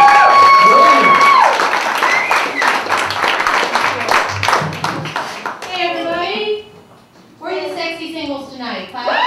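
Applause and cheering from a comedy club audience as a woman comedian is introduced, a dense clatter of clapping that fades, then a voice speaks over it.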